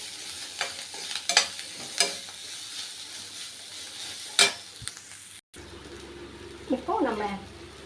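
Ragi upma ingredients sautéing in a pan, with scattered spoon scrapes and taps over a steady low sizzle, then a brief cut and some quieter stirring noise near the end.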